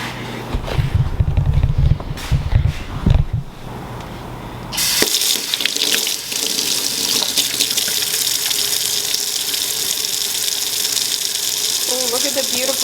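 Tap water runs steadily onto a bar of handmade soap with a small embedded heart, a sustained loud splashing gush over the sink that follows a few seconds of quieter handling noises.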